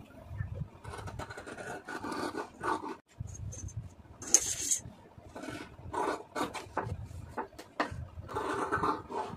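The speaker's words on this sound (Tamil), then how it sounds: "இதை அப்படியே கட் பண்ணிடலாம்." Blouse fabric being cut along a marked line with scissors: close, rasping snips come in repeated bursts with brief pauses between strokes.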